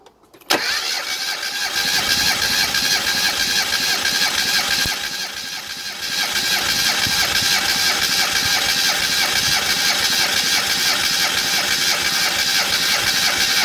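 A Classic Mini engine cranking on the starter during a cylinder compression test: a loud, continuous, rhythmic churning that runs steadily for over ten seconds with a brief dip partway, no voices.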